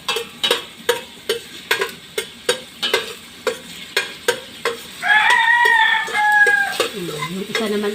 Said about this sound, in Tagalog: Yung isa naman ang tumilaok, si Nano